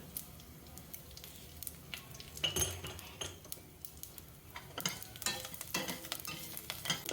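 Asafoetida sizzles in hot oil in a pan for moong dal rasam, a soft frying hiss broken by clinks and scrapes of a metal spoon stirring against the pot, with no speech.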